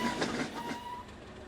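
Locomotive 37263 pulls away from Marstem Firth station in a train simulator game, a close rumbling rail noise with a brief tonal whine, fading a little toward the end.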